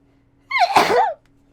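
A single sharp human sneeze, loud and close, bursting out after a quiet pause during a Minecraft stream, with no talk around it.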